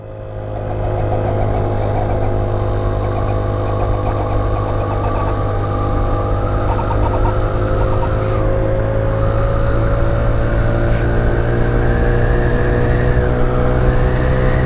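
A Baja SC50 Chinese GY6 scooter rolls downhill with a steady, loud engine drone and wind rush, its pitch slowly climbing as speed builds, with no talking.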